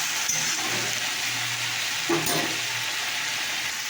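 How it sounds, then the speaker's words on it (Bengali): Potatoes frying in a pan give a steady, close broadband sizzle with a low hum underneath and a brief louder burst of crackle partway through. "এইদিকে দেখো এই আলুটা হচ্ছে ভাজা।"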